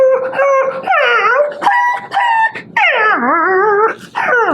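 A man imitates a dog with his voice, giving a run of loud barks and yips mixed with long wavering howls, close and clear with no other talk.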